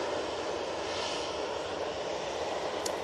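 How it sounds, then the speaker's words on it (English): An EasyJet airliner arriving at Manchester Airport from Barcelona, heard as a faint, steady distant engine hum with a brief high hiss near the end, alone without talk. "It's the EasyJet coming in from Barcelona"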